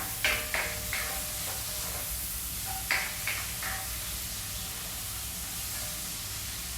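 Mung beans in a cooking pot are stirred with a few soft scraping strokes over a low, steady simmering hiss, close but quiet, without any talking.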